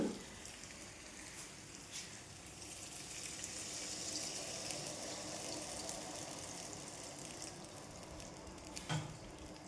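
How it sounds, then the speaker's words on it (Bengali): Water poured into a pan of fried ginger paste, cumin paste, green chilli and tomato gives a steady hissing, bubbling wash, close but soft, ending in a couple of clinks. "জল দিয়ে দিই।"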